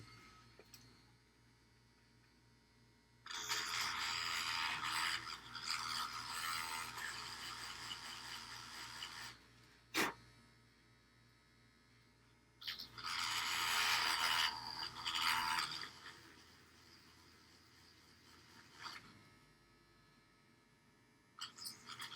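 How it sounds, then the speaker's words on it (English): A small drill bores out the other side of a miniature model part in two sustained bursts of whirring and grinding, each several seconds long, close and fairly loud, separated by quiet handling with a sharp click between them. "Alright, time to drill out this other side."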